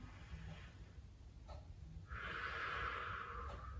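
A slow, deep inhale through the nose during a yoga breathing exercise after cobra pose, a soft airy rush that swells and holds for over a second, close and fairly quiet.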